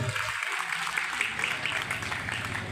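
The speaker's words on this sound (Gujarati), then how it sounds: "જોરદાર તાળીના ગડગડાટથી વધાવી લેશું" A crowd at a large Hindu community gathering in Visnagar gives a guest a sustained round of applause, a steady rain of clapping heard at a moderate distance, with a voice speaking over it.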